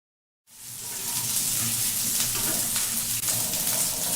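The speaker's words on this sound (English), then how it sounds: "Now, let's fry the patties." Stuffed chicken patties frying in a pan, a steady broadband sizzle that starts abruptly and holds loud and close without pause, no voices over it.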